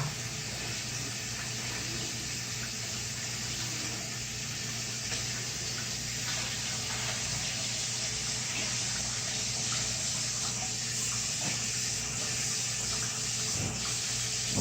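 Tap water pours steadily into a planted aquarium, a continuous close splashing rush that holds evenly throughout with no voices.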